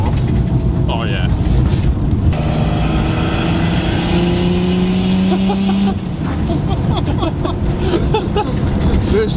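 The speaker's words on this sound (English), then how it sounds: "That induction noise is fucking crazy" A Nissan R32 Skyline drives along with a loud, continuous engine roar and a rising induction whine that climbs in pitch, close up inside the car, with pitch shifts as it changes speed.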